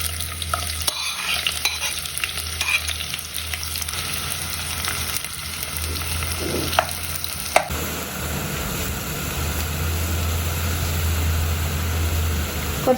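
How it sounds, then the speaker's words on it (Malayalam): Thinly sliced onions fry in hot oil for Thalassery dum biryani, with a constant close sizzle and occasional stirring scrapes that continue evenly throughout and no voices. "നന്നായി ചൂടായി വരുമ്പോൾ നമ്മൾ നേരിയതായിട്ട് അരിഞ്ഞു വെച്ചിരിക്കുന്ന ഈ ഉള്ളി ഇതിലിട്ട് നന്നായിട്ടൊന്ന് മൊരിച്ചെടുക്കണം"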